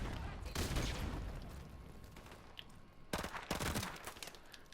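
Mini Uzi submachine gun fire in a multiplayer shooter video game, two short rapid bursts heard fairly faintly against background game noise.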